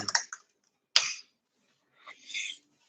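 Someone types on a computer keyboard in a few short, sparse bursts of clicks separated by pauses, close and clear in a quiet room.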